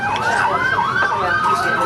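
Emergency vehicle siren wailing loudly and steadily, its pitch sweeping up and down in repeated cycles, close and dominating with road noise beneath.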